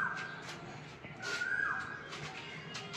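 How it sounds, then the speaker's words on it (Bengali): An Asian koel calls outdoors in the evening, giving a clear whistled note that swells and falls, heard at a moderate distance over steady background ambience. "কোকিলের আওয়াজ শুনতে পাচ্ছ?"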